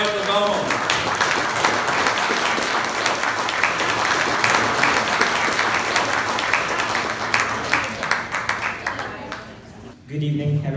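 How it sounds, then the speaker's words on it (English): Sustained audience applause at a Filipino-American association Valentine's event greets an introduced guest speaker, dense and steady for about ten seconds before cutting off, with a voice beginning just at the end. "If you could give a round of applause"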